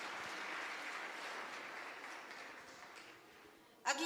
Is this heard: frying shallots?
no